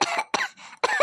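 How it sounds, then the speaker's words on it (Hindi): A woman coughs in a kitchen: three harsh, loud cough bursts with short pauses between them, close by, with no talk. "आप किचन में खड़े होकर खांस रही हैं?"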